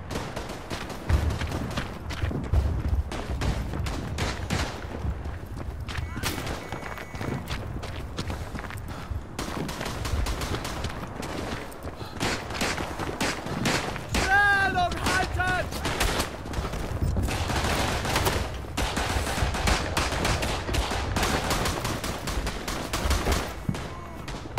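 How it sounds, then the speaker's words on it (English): Machine gun fire rattles through a World War I shooter battle in Verdun, sustained bursts with scattered rifle cracks and footsteps, moderately close and continuous for the whole stretch, with faint voices underneath. "Machine gunner in the back, like far back."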